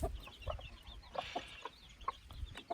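Brooding hens with newly hatched chicks cluck steadily at close range, soft repeated clucks and murmurs layered over a low background rumble, with no talking.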